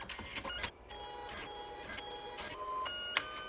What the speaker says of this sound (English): just press OK and the printer will start printing the picture